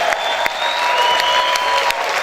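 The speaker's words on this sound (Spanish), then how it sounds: "¿Cuántos pueden gritar y aplaudir fuerte al Rey en esta hora?" A church congregation applauds loudly and continuously, a thick wash of many hands clapping with a few sharper claps standing out and a held tone ringing faintly underneath.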